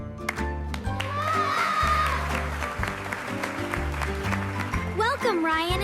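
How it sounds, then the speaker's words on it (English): Classmates in a school classroom clapping to welcome new students, lively applause layered over background music with voices and cheering mixed in. "Let's all clap for our new friends."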